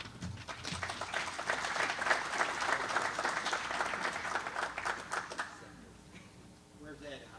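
A political meeting audience applauds a speaker, a loud rush of clapping that holds steady for several seconds before fading out, with talk emerging as it dies away.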